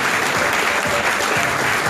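Dense, loud applause from an audience at a film festival closing and awards ceremony, steady crowd clapping filling the whole stretch without pause.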